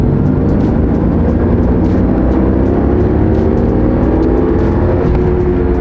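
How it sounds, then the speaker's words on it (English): Loud car tires roaring on the road from inside a quick car that slides sideways easily, a dense, constant low rumble with rising tonal hum and no pauses, no voices heard. "these tires are loud"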